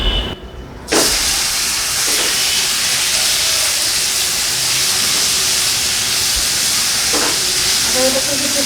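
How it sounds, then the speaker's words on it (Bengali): Marinated chicken dropped into hot cooking oil in a pan bursts into a loud, continuous sizzle and hiss after a brief quiet moment, with occasional clinks of a utensil. "এর মধ্যে সেই ম্যারিনেট করা চিকেনগুলো দিয়ে দিই।"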